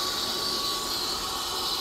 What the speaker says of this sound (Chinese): 这辆车由于它是一个钢齿，所以它波箱的这个噪音非常大